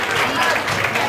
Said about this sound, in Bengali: সানির জন্য একটা জোরে হাততালি।